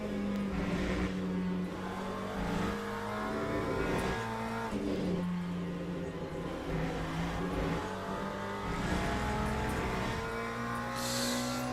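Race car engine in the Le Mans Ultimate sim racing game, a steady droning roar with repeated rises and drops in pitch through gear changes, loud and continuous with no talking.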